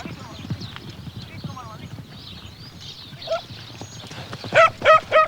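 Horse hooves clip-clop in a rural gaucho setting in Argentina, steady light knocks under background voices, followed near the end by three louder, tonal horse-like calls.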